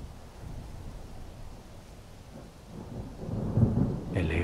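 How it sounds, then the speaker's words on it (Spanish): Low rumbling thunder rolls under a steady wash of rain, swelling louder toward the end with a distant, booming quality. "puedes ver una tormenta más fuerte"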